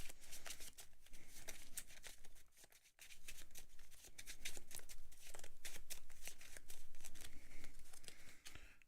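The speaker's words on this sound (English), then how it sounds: "Now I have to actually shuffle." A deck of Transformers deck-building game cards is shuffled at close range, giving dense, continuous riffling and flapping with a brief pause partway through, heard without any talking.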